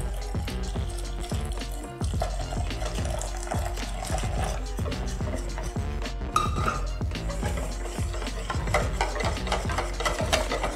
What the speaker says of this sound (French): Je verse délicatement le lait chaud tout en mélangeant avec le fouet